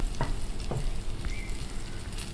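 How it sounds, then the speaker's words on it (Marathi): Surmai fish pieces frying in hot oil on a tava, a steady close sizzle with a few sharp pops and crackles, no voices. "घालूया मस्त गरम गरम तव्यात"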